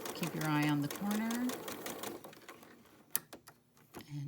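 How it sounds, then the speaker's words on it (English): A sewing machine stitches the background squares of a Prairie Flower variation quilt block, running steadily near and close by, while someone talks over it at the start. "I like to go right up to the edge and start sewing."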